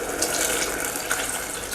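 Water is poured into a pan of mushrooms frying over low heat, giving a steady, fairly quiet splashing hiss with no talk.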